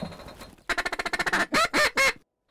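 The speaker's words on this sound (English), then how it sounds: "Guys, there's a couple ducks coming in." Loud, close honking quacks from ducks flying in during a Nebraska waterfowl hunt, a rapid burst of calls followed by three longer, drawn-out calls, then silence.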